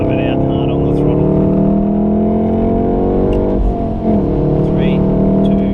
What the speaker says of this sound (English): Drive it out hard on the throttle.